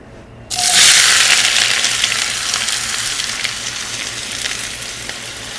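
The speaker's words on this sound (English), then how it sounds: "We're going to start putting things into the heated oil. Perfect. I will start with the onions." Chopped onions drop into heated oil and burst into a loud, steady sizzle that stays strong and even throughout, with no talking.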